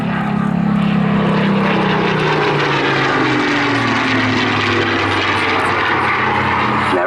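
A Spitfire's piston engine and propeller roar loudly and steadily overhead at an airshow, the engine note slowly falling in pitch as the aircraft passes, with a commentator's voice faintly underneath.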